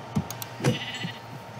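Sheep bleat in the video game Minecraft, a couple of short nasal bleats close up over a light background hum.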